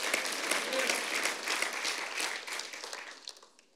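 Church audience applause, dense and sustained clapping from a crowd that slowly fades toward the end.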